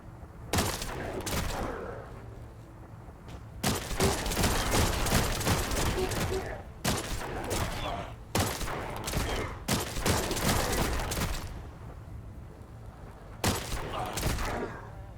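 Rapid bursts of video-game gunfire where each shot sets off an area explosion, booming impacts, loud and dense, coming in several volleys separated by brief lulls.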